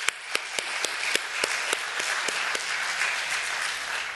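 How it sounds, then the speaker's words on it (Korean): A church congregation at a Korean Presbyterian church in New York breaks into hearty applause. Steady, dense clapping carries throughout, with a few sharper individual claps standing out at the start. "힘차게 한번 박수할까요?"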